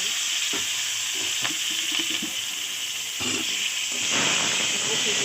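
Bay leaf, dried chilli and cumin sizzle in hot oil with a steady close hiss that swells louder near the end.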